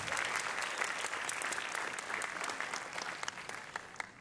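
Dense, lively applause for primary school gymnastics award winners at a school sports awards ceremony, many hands clapping close and steady throughout with a faint crowd murmur.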